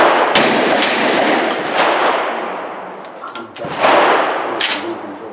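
A 12-gauge tactical shotgun fires on a range, with several sharp, loud blasts spaced a second or more apart, each trailing off in an echo.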